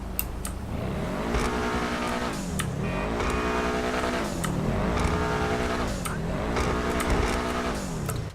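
Benefactor Schlagen GT sports car in GTA V, its engine revving hard through repeated rising sweeps and gear changes, with a turbo blow-off hiss at each shift, loud and continuous with no talking.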